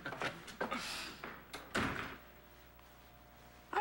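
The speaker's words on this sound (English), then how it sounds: "And shut the door." A door is slid and shut with a couple of close scraping and knocking sounds, followed by a quiet room and a faint final knock.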